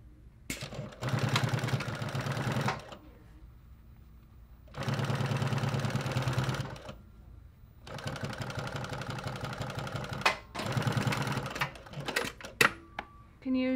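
A Juki PLC-2710 industrial sewing machine stitches in three sustained bursts of fast, rhythmic mechanical whirring, each lasting a couple of seconds, separated by quiet pauses and followed by a few clicks and clunks nearby.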